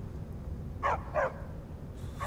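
A dog in the Skyrim video game gives three short barks: two close together, then one a moment later. The barks are faint against a low background hum.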